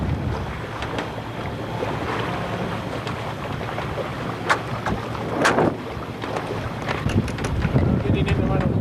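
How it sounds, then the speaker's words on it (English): Strong wind buffeting a sailboat underway, a constant loud rush with gusty microphone rumble and water sloshing against the hull, with brief creaks and knocks of rigging. "Pretty good wind now."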